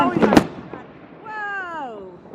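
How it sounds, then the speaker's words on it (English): New Year fireworks in east London burst in a loud crackling cluster up close, followed by a voice drawn out over the fading noise. "This is the best firework display I've ever seen in my life."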